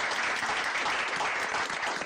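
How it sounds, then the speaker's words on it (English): A room of attendees at a board of commissioners' meeting applauds two honorees, an even burst of many hands clapping, fairly soft and distant, with no talking over it. "Let's give them a round of applause."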